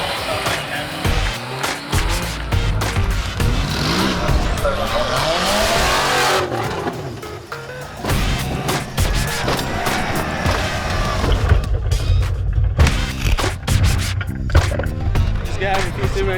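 Off-road tuff trucks grind over a series of large earth-moving tyres in a competition run, engines revving and surging loudly with clunks and thumps as people talk throughout.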